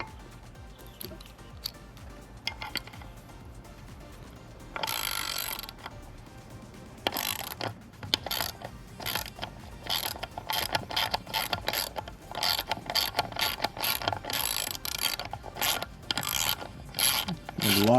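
A ratchet loosening a bolt during a Honda Civic EK sedan engine swap, with rapid clicking pawl bursts that grow steadier and more continuous after a few sparse early clicks, close and fairly loud.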